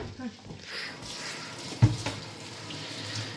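Water runs from a kitchen tap while a melon is washed, a soft steady splash with a brief louder knock, heard under people talking in Turkish.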